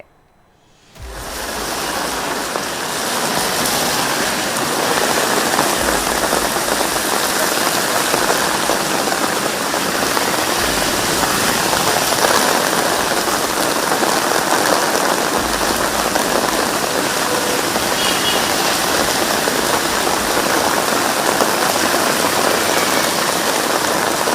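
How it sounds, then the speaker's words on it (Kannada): Steady rain in Bengaluru pattering on surfaces, a dense, even hiss that starts abruptly and holds at a constant loud level, with no voices. "ನಗರಕ್ಕೆ ಎಂಟ್ರಿ ಕೊಟ್ಟಿರುವ ವರುಣ ಚಿಟುಪಟ ಅಂತ ಸುರುತ್ತಿದ್ದಾನೆ"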